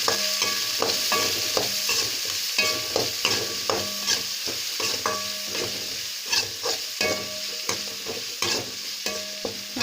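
Onions, green chillies and curry leaves sizzle steadily in hot oil as a spoon stirs them in repeated scraping strokes, close and continuous with no talk.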